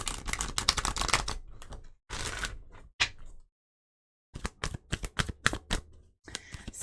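A deck of tarot cards is shuffled in quick bursts of riffling flutter, with a short silent pause in the middle before more rapid card slaps and riffles follow, close and crisp.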